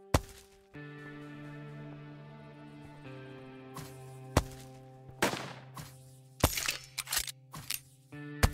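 Gunfire from a revolver or rifle in the western game Above Snakes, several sharp cracks spread unevenly over a sustained tonal music bed, with a few louder shots clustered near the end.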